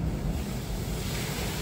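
Ocean water surging and splashing around a beachside pool area in the Bahamas, a loud, close, continuous wash of surf buffeted by heavy wind noise, with no talking.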